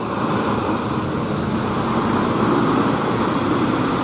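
A Hino bus with a Jetbus 3 HDD body passes on a road, giving a steady, loud engine and road roar that holds evenly throughout with no talk.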